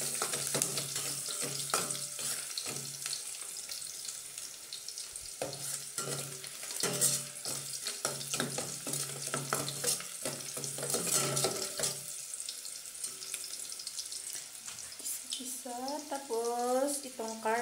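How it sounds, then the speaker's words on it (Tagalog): Garlic sautés in hot oil in a pan for pork adobo, a steady close crackling sizzle with scraping stirring strokes throughout and a voice speaking over it near the end. "Painitin muna natin. Tapos, ilagay natin yung bawang. Igisa natin yung bawang."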